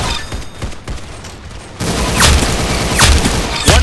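Video game gunfire rings out as a sharp, loud burst of rapid shots layered over game sound, with a few distinct cracks standing out near the end.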